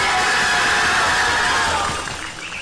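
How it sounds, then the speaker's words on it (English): Crowd noise at a European youth championship match in Patras, a loud, sustained roar of cheering and shouting that fades slightly toward the end, with no clear speech. "A lot of noise coming from the crowd"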